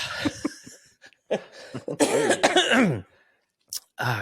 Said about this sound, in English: God, I got to get rid of this cough.